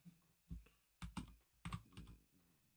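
Keys on a Mac computer keyboard are typed in short, close clusters of sharp clicks, a few taps at a time with brief pauses between them, in an otherwise quiet room.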